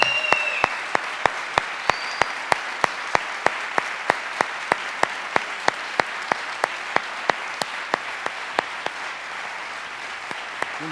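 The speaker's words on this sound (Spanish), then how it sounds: "Vamos a recibir con un fuerte aplauso a Cruz Novillo padre y a Pepe" Steady applause from an event audience welcoming two guest speakers onto the stage, with sharp individual claps standing out above a dense, even roar of clapping that continues for the whole stretch.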